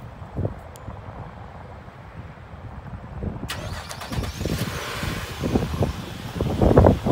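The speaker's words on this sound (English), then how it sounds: "This vehicle is going to be equipped with remote start." A 2017 Nissan Murano SL starts by remote start outdoors, its engine catching partway through and settling into a low idle, with wind noise buffeting the microphone.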